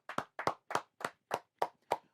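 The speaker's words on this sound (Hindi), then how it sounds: "उज्जवल राज के लिए तालियां हो जाएं" A single person claps eight times in a slow, even rhythm for prize winner Ujjwal Raj, each clap close and crisp, alone without talk.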